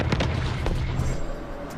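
Anti-aircraft guns firing into the night sky, a continuous rumbling barrage of booms and bursts with several sharper reports, loud and slightly distant.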